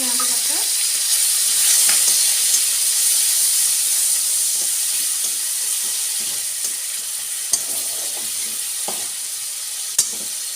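Panch phoron spices sizzle in hot oil for an ivy gourd dish, a loud steady hiss of frying close by throughout, broken by occasional small clicks and pops.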